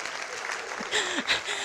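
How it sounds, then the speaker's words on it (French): An audience at a wedding-themed comedy show applauds, a steady patter of clapping with faint voices mixed in, kept fairly soft and distant throughout the short clip. "On applaudit très très fort pour les anciens mariés."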